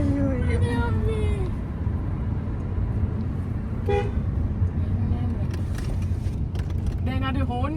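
Car horns honk in several short toots and longer blasts over continuous road and engine noise inside a moving vehicle, with voices talking at times.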